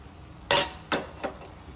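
A spoon knocks against a pot while sukto curry is stirred with fried spices, giving three distinct clinks, the first loudest, over a quiet kitchen background.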